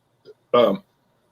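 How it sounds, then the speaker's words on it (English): A short, close burp after drinking Oktoberfest beer, preceded by a tiny faint throat sound, alone in otherwise quiet surroundings. "it's making me burp already"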